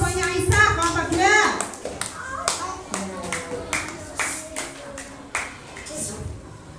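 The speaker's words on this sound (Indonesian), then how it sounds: "Yuk, tepuk tangan" Schoolchildren in a classroom break into a burst of clapping, fairly close and lively, while a teacher and children keep talking over the applause.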